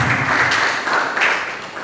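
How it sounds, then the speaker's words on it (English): Wedding reception guests clap and applaud together, a steady dense wash of handclaps at close range with a few brief swells, no talking over it. "Give them a round of applause again."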